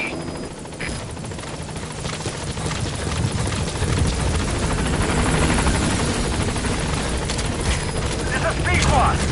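A helicopter in the video game Metal Gear Solid V approaches a landing zone, rotor wash building into a steady loud whir that grows nearer, with a radio voice speaking over it.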